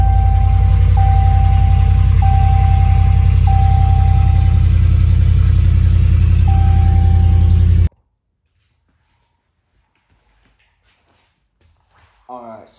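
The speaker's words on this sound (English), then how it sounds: "This is a cold start with the new exhaust." Ram 1500 pickup with a catless, muffler-delete straight-piped exhaust idling loud and rough after a cold start, a deep steady rumble that cuts off abruptly, followed by near silence and brief speech.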